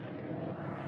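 A military airplane passing over gives a steady, broad engine roar that holds at moderate loudness for the whole second, with no voices.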